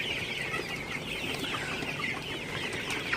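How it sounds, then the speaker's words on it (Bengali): Sonali super hybrid chickens, about 700 in a shed at night, cluck and murmur continuously at close range, overlapping soft calls with no voices. "আমার এখানে 700 সোনালী মুরগি।"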